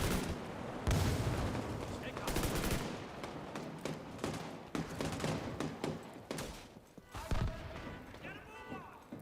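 Bursts of gunfire from a lightweight M4 rifle in The Division 2 video game, loud and close, in repeated volleys with booming impacts amid busy battle noise.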